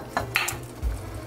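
Shrimp being stirred into a pot of Louisiana-style jambalaya: a few soft scraping and clinking strokes of a spoon against the pot, quiet and close, with no talking.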